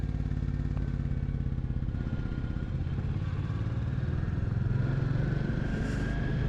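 A Royal Enfield Classic 350 motorcycle rides steadily at night, its single-cylinder engine thumping in a constant close drone with wind rush and a slight rise in pitch toward the end.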